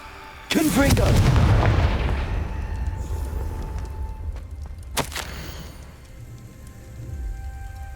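Confringo spell explosion in Hogwarts Legacy, a sudden loud boom that rumbles and crackles away over a few seconds, followed by a sharp second crack and quieter game ambience.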